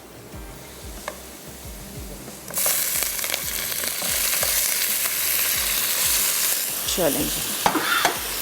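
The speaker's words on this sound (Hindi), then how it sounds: "अब इसमें ऐड करने जा रहे हैं ये उबला हुआ गोश्त" Boiled beef is tipped into hot masala in a pan and starts to fry loudly, with a strong close sizzle that rises suddenly and holds steady under stirring scrapes, after a quieter start with a brief spoken word.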